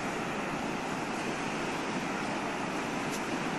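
Waves wash on a beach in Goa, India, as a steady, unbroken roar of surf with some wind noise, loud and continuous, with no voices.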